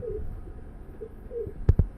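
A silver pigeon gives a few soft, low coos up close, followed by a couple of brief louder bumps, with quiet background around it.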